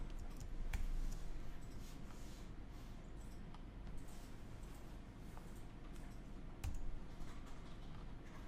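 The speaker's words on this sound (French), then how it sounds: "Il faut que je tape la lettre qu'on voit." Steady typing of letters on a computer keyboard, a run of light close key clicks with a few sharper, louder strikes scattered through it.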